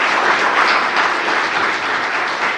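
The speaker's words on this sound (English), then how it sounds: "just a round of applause for the staff that made" Audience applause for town staff at a Bluffton Town Hall renovation ribbon-cutting, a loud, dense, steady wash of many hands clapping from start to finish.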